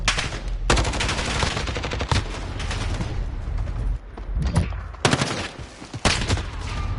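Video game gunfire crackles in loud, rapid automatic bursts with sharp single shots, broken by short pauses and a quieter stretch midway, all close and dominant.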